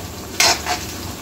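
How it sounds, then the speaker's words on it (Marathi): Tomatoes cooking soft in a pan, with a brief burst of sizzling and stirring scrapes that flares up, dips, and rises again before settling to a low simmer. "आपले हे टोमॅटो छान मऊ होतपर्यंत याला शिजू द्यायचं आहे"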